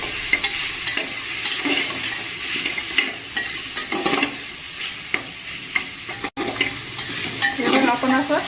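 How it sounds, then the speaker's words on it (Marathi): Mutton frying in a pan on a gas stove for biryani, a continuous sizzle broken by scraping, clattering stirs of a spoon against the pan at irregular intervals. "त्याला असं थोडंसं मटण गॅसवर आपण 5-6 मिनिटं चांगलं जरा फ्राय करून घेऊ."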